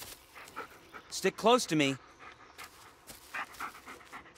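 A dog pants in the horror video game Blair Witch, with short breathy bursts close by between a man's spoken lines.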